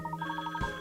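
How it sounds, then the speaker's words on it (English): A telephone rings in the video game Layton's Mystery Journey: Katrielle and the Millionaires' Conspiracy, a quick electronic trill of rapid pulses that ends abruptly in under a second. "Oh, that's the phone."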